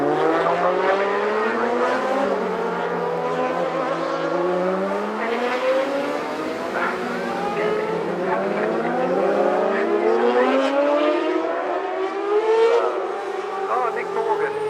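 A Kawasaki race motorcycle on the NW200 road circuit in Northern Ireland screams past with a loud, high-revving engine whose pitch rises and falls through gear changes as it approaches and recedes. A commentator talks over it.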